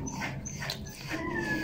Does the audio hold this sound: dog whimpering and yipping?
yes